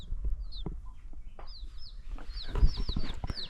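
Soft, high chirping clucks from several small chickens in Ghana repeat in quick bursts nearby, over a low rumbling background.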